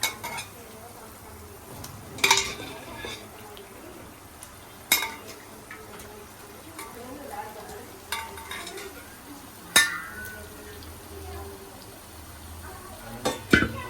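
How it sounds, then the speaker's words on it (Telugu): A kilo of mutton being added to a cooking pot, with sharp metallic clinks of utensils against the pot and faint stirring, spaced irregular knocks close by over a low kitchen background with some quiet talk. "ఇప్పుడు కేజీ మటన్ వేసేస్తున్నాను."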